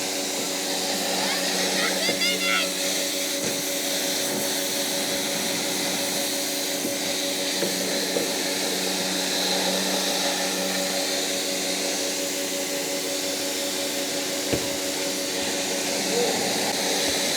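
A pressure washer fitted with a Turtle Wax 90 degree nozzle sprays under a car's wheel arches, producing a steady loud hissing rush with a constant motor hum throughout, with an occasional brief knock.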